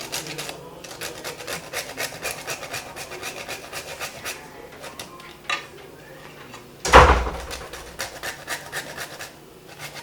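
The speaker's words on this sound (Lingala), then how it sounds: "Là, on a râpé muscade nanga." Nutmeg being grated for a pork and potato dish, a steady, close run of dry rasping strokes with faint clinks of pots and utensils, rising briefly to one louder scrape near the end; no talk.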